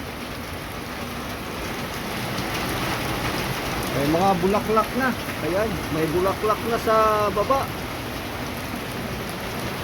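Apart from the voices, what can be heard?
heavy rain pouring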